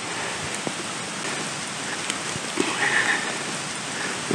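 Steady rain falls at a wilderness campsite in Dolly Sods, a dense even hiss with scattered close drops tapping on surfaces, no voices.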